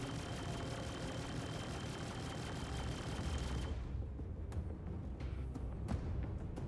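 Rapid gunfire strikes a Carrack ship in Star Citizen, a dense, steady rattle over a low engine hum, then sharp individual impacts crack out at intervals once the drone thins.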